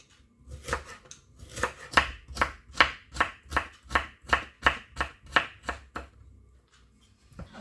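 Carrots being chopped into pieces with a knife on a board, a steady run of about fifteen crisp, evenly spaced cuts at close range with no voice over them.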